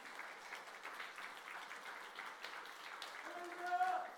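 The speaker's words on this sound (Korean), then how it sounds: "앞으로 수고하실 교구장님들 격려하는 마음으로 크게 박수를 해주시길 바랍니다" A church congregation applauds in a steady, distant wash of clapping throughout, with a voice speaking over the end.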